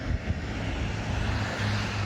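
A Jeep drives past on a neighborhood street, a steady broadband engine and road rumble of moderate loudness over the two seconds, with no talking.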